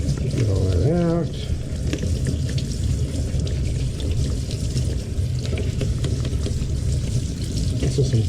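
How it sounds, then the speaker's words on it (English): Tap water runs steadily over a dishwasher food trap as it is scrubbed with a toothbrush, a continuous splashing hiss close by, with a brief voice near the start. "Run some water on it and use your toothbrush."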